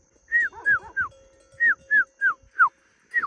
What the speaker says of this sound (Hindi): भुटिया कुत्ता भौंक रहा है